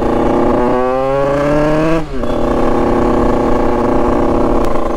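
A Yamaha DT 100cc two-stroke motorcycle revs up with rising pitch, cuts briefly for a gear shift, then carries on at a steady buzzing drone, loud and near.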